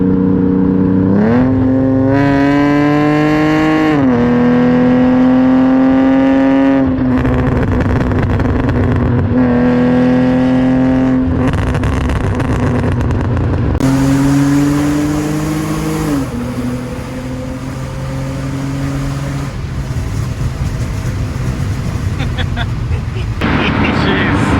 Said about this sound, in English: Now since I got it tuned, it's a whole different beast. Let's give him a sound clip.